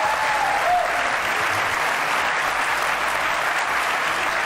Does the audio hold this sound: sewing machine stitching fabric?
no